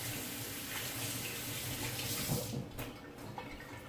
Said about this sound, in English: Just gonna rinse my hand off.